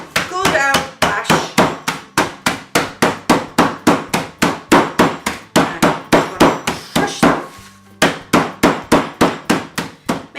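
Steady, loud thwacks as a sealed bag of biscuits is bashed to crush a cheesecake base, roughly three blows per second in an even rhythm, close and sharp, with one brief pause partway through.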